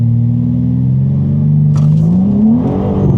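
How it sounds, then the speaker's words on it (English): A tuned BMW G80 M3 with anti-lag active launches hard from a dead stop in first gear. The engine note is loud and close, climbing steadily in pitch as it accelerates, with no talking. "Let's do a dead stop hit."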